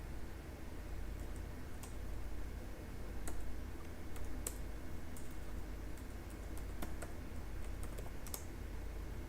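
Steady typing on a computer keyboard while entering a command, with irregular key clicks and a few sharper taps over a constant background hiss, no one speaking.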